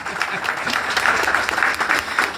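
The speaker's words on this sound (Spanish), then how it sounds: "Dale un aplauso fuerte" A church congregation claps loudly during a sermon, a short, vigorous burst of close, dense applause.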